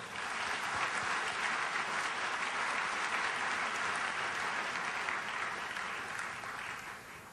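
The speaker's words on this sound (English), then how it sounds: "A big round of applause." A large audience applauds at the close of a formal evening law lecture, a dense, steady wash of clapping that holds loud throughout and eases slightly near the end.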